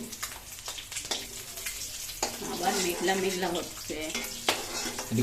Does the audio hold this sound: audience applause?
no